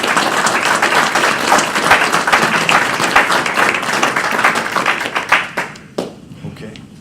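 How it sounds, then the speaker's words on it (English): Applause for a panel at an education and workforce development talk: dense, close clapping from the audience that thins out into a few scattered claps over the last seconds. "giving a round of applause to the panel and to the audience"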